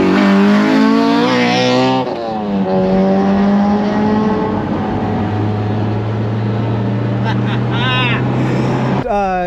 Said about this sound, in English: Full exhaust 3-inch, and I got a K-Tune big tube header.